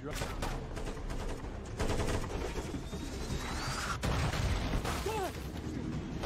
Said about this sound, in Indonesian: beralih dari penyelamatan Sandra menjadi penyergapan dalam baku tembak